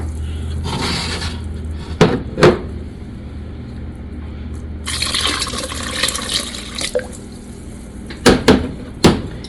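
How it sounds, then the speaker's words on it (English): Water pours into a pot on a stove for homemade strawberry syrup, a steady running splash at close range broken by a few sharp knocks and clatters of the pot. "we are going to put the water in here and on our stove"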